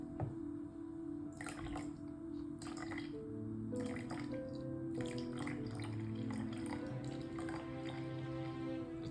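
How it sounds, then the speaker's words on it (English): Water being poured into a layered density column in a school physics lab, a faint trickle with scattered drips and splashes against quiet room noise. "So Carter is now pouring in the water."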